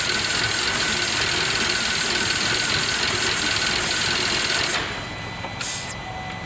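The engine of a Traverse, Acadia or Enclave idles roughly under the hood with the air filter and mass airflow sensor removed, a steady close mechanical clatter and whir that drops noticeably quieter near the end.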